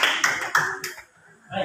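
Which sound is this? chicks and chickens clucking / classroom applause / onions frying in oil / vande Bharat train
classroom applause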